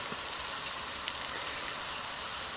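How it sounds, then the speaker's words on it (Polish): Dense, continuous sizzling of cutlets frying on a hot grate over a wood stove, crackling steadily and fairly close with small pops throughout. "bardzo szybko się kotlety smażą"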